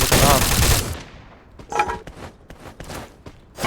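Rapid automatic gunfire rings out in a video game tournament grand final, first as a dense loud burst, then as sharp separated shots and short volleys with a faint voice in the background.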